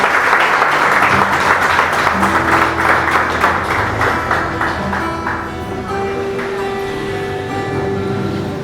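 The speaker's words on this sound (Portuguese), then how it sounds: "você pode aplaudir o Senhor" A church congregation applauds loudly and steadily for several seconds, dense clapping that eases slightly toward the end, with a sustained musical tone underneath.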